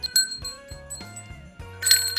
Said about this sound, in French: Donc des petites cloches, oui ça fait du bruit.